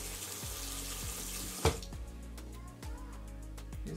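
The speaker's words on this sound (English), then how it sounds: "Turn the water off." A faucet runs with a steady rushing splash, then a sharp knock marks the tap being shut off, leaving only faint dripping and quiet room noise.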